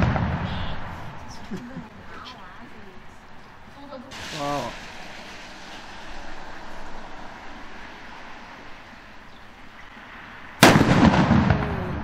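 New Year's Eve fireworks go off outside at night, with distant booms and crackling, a sharp nearby burst around four seconds in, and a loud close explosion near the end, while people talk throughout.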